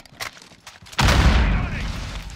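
A grenade explodes in Call of Duty: Modern Warfare, a sudden loud close boom after a second of scattered gunfire, its rumble trailing off briefly.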